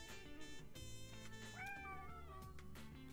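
A Siamese cat meows, a long rising and falling wail close up and fairly loud, over low background noise.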